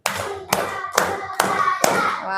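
A class of children clap their hands together five times in unison, each sharp, loud clap evenly spaced about half a second apart in a classroom.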